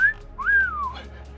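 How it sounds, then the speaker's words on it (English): A wolf whistle horn fitted to a Mazda RX8 gives a clear two-tone whistle, a rising note that then slides down, fairly close and alone, with no voices. "I got a wolf whistle over here in the corner."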